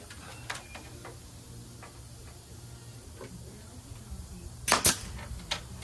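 A nail gun drives nails into the wooden window frame of a vintage camper, giving a few sharp, faint snaps spread apart, with two louder back-to-back shots near the end over low background hum.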